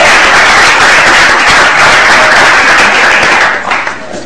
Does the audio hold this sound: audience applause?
yes